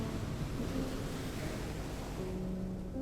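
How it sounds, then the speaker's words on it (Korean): Faint, distant ocean waves wash in a steady, low rumble from far off, a continuous soft surf hiss with no voices and no distinct individual breakers. "그저 파도 소리가 저 멀리서 미약하게 들려올 뿐이었다."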